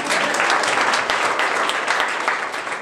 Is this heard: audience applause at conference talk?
yes